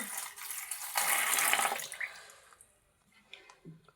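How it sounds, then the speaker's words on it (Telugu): A brief gush of poured water rushes loudly, then tapers off into quiet with a few small clinks and drips. "వాటర్ పోసేసుకుందాం."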